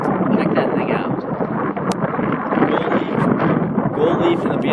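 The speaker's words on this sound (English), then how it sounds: "It's really windy here." Strong wind roars steadily across the microphone outside the Iowa State Capitol on a cold day, a loud, continuous buffeting with no breaks.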